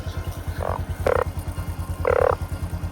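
A frog croaks in a rice field at night, with a rapid pulsing drone of calls running throughout and two louder, close croaks standing out above it.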